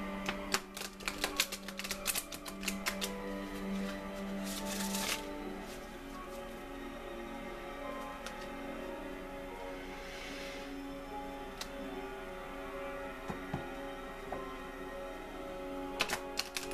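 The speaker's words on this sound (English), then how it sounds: "Okay, I'm shuffling it backwards." Tarot cards are shuffled backwards in quick crisp riffling bursts at the start and near the end, with quieter rustling between, all close up and fairly soft.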